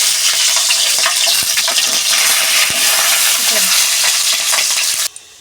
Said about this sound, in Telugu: ముందైతే పచ్చిమిరకాయలు వేపేసుకుందామండి